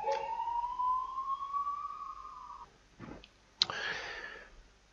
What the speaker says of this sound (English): The siren goes again.